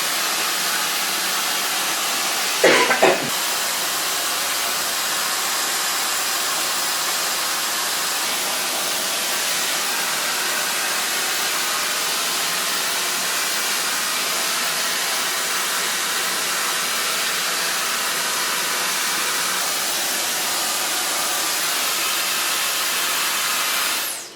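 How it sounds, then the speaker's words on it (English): A hair dryer blows steadily on curly hair in a salon, a loud, continuous airy hiss running unbroken for the full stretch, with one brief louder bump early on. "So far blow drying."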